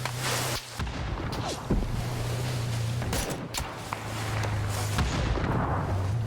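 Gunfire in the PUBG video game, sharp booming shots scattered through a steady hum of game background noise, with several louder bursts and no talk over them.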